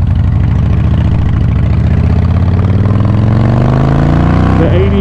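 A Harley-Davidson Softail Springer with the 88 motor and an enlarged intake rumbles loudly nearby, its throbbing beat rising in pitch as it revs and then dropping abruptly near the end.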